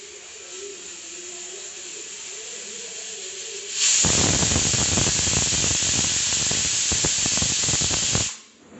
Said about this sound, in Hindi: हमारे कुकर ने पहली बिसल उठा ली है, अब ये ऐसे ही छोटी छोटी बिसल लेगा।